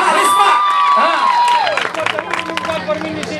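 Children in a village gathering cheering and shouting for the village chief, a loud close crowd of young voices with scattered clapping, an adult voice calling out over them.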